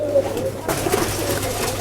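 Giribaz pigeons, a Bangladeshi flying breed with biscuit and coffee colouring, coo in low steady murmurs close by, with a brief burst of rustling midway and faint background noise throughout.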